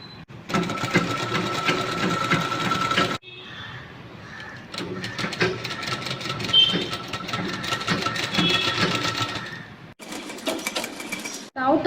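A sewing machine runs in long continuous bursts while stitching the edge of a blouse neck, its rapid mechanical whirr broken by short pauses. Some speech is heard between the runs.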